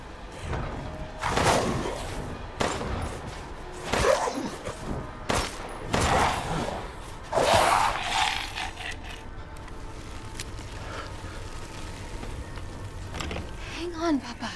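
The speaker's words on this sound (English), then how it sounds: "they will most likely replace it due to the 1911's full auto firing" In Resident Evil 8, a 1911 pistol fires on full auto in a series of short, crackling bursts spaced a second or two apart, with a voice talking over much of it.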